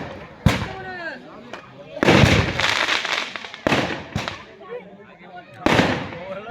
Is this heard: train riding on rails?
no